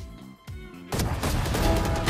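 A gunshot in a tactical shooter video game sounds abruptly after a quieter stretch of music and effects, loud and close, then gives way to a dense burst of firing and rumble.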